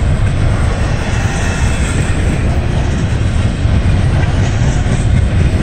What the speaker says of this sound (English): Oh, this is that short intermodal.